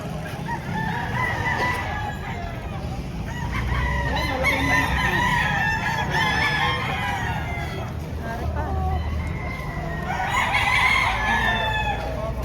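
Several gamefarm chickens cluck and roosters crow repeatedly, close by and loud, over a busy farmyard background.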